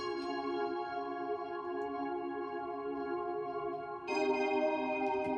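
Sustained, bright synthesizer chords ring out smoothly, shifting to a new, fuller chord near the end; no voices.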